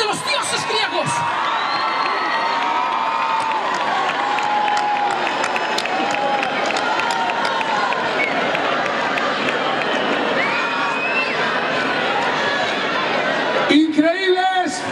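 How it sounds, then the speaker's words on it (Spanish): A large crowd at a live orchestra show at a village festival in Galicia applauds and cheers loudly and steadily, with whoops and shouts throughout, and a voice on the PA cuts in near the end. "gustaríame ver ese aplauso grande para un artista increíble"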